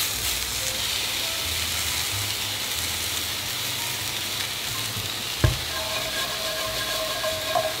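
Onions and peppers sizzle steadily in a chicken pan for chicken Vesuvio while being stirred, with a constant loud frying hiss and a sharp clack of a utensil against the pan near the end.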